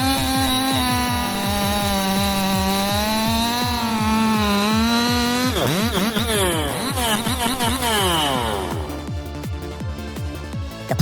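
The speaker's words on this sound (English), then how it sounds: "Like all Husqvarna chainsaws, the 3120 XP boasts superior power-to-weight ratio." A Husqvarna 3120 XP large chainsaw runs loud and continuous while cutting a tree, its engine whine holding steady then wavering as the bar bites into wood, with a harsher rattling burst near the end.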